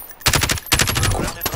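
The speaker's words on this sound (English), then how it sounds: "I'm taking fire!" A short, loud, rapid burst of automatic gunfire from Call of Duty: Modern Warfare, close by, with a brief pause before a second rattling volley.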